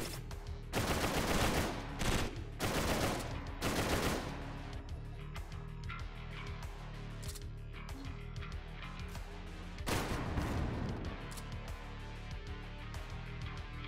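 Gunfire in the indie shooter TrenchPunk, several loud sharp bursts of rapid shots near the start and another around the ten-second mark, with quieter stretches between them.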